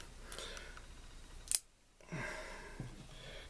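The small scissors of a Victorinox 74 MM pocket knife give a single crisp metallic snap, with quiet handling rustles before and after.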